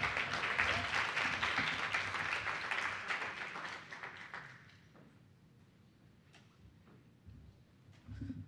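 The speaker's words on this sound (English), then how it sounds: "another round of applause for Congresswoman MacIver" Applause for a congresswoman at a youth civic summit, dense crowd clapping for about four seconds before thinning to a quiet room with scattered faint taps and a brief swell near the end.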